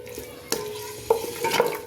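Chicken sautéing in a pan for a winter chicken soup, soft sizzling with a few sharp spoon-stirring scrapes and clinks, close and fairly quiet.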